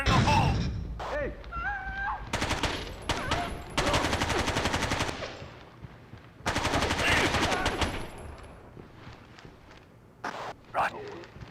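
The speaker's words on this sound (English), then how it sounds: "Placing explosives. Explosives ready. Fire in the hole!" Breaching explosives and gunfire in the video game Rainbow Six 3 on PS2: loud bursts of automatic fire in several long volleys, with a sharp blast near the start and scattered shots toward the end.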